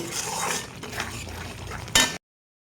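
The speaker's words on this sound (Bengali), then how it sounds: "ভালোভাবে আমি কষিয়ে নেবো তো যত অবধি তেল না ছাড়ে মশলার থেকে তত অবধি আমি মশলাটাকে ভাজবো" Spice paste being stirred and fried in oil for a paneer curry, a close, steady sizzle with the scrape of a spoon in the pan, ending in a sharp clatter before cutting off.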